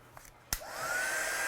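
A heat gun drying watercolour paint clicks on and rises into a steady airy roar with a whining tone, running alone after a short quiet lead-in.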